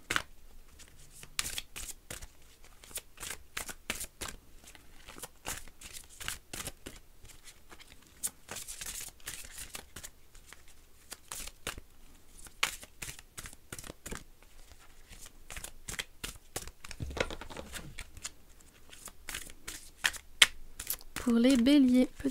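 Oracle cards are riffled and shuffled in rapid bursts of crisp flicking snaps, close and fairly faint, with pauses between bursts and a soft voice speaking near the end.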